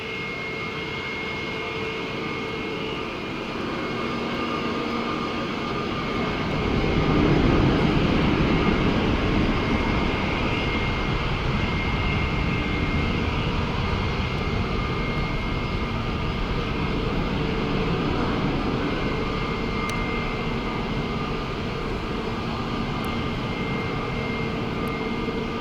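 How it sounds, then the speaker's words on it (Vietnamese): A Cathay Pacific Airbus A350-1000 roars down the runway on takeoff, a broad steady jet rumble that swells and stays loud and sustained, heard from a distance with no talk. "Mời mọi người chiêm ngưỡng pha cất cánh của Airbus A350-1000 của Cathay Pacific."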